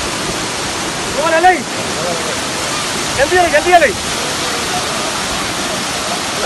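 Manthokha waterfall in Skardu roars as a loud, steady broadband rush of falling water, with a few brief voices speaking close by over the torrent.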